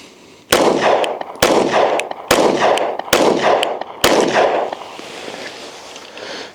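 A SIG pistol fires five sharp, loud shots close by, spaced about a second apart, each one followed by a short ringing decay, and then a quieter tail fades out.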